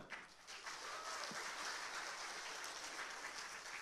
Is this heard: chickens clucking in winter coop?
no